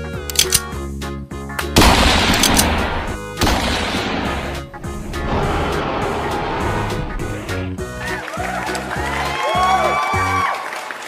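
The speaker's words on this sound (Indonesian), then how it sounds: "Tembak shotgun." Nerf toy shotgun firing, with sharp snapping shots and clattering plastic pumps in irregular bursts, loud and close, while busy background sound and cheering-like noise runs underneath.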